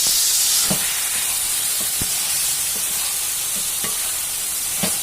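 Dry fish fried in oil with brinjal and drumstick, giving a steady broad hiss of sizzling oil with a few soft stirring clicks scattered through it.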